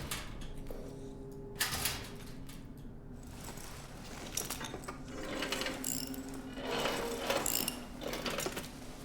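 A wrench turning a mechanism in Amnesia: The Bunker gives a run of repeated ratcheting metal clicks and grinding over a low droning background, rising in bursts across the clip, with no talking.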